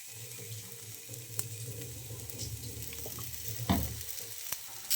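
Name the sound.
banana slices coated in semolina frying in coconut oil on tawa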